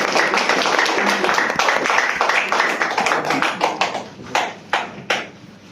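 An audience at a DXN company health and beauty seminar gives loud applause to welcome the speaker, dense clapping that thins into a few scattered final claps near the end.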